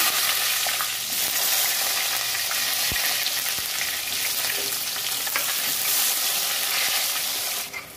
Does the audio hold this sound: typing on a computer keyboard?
no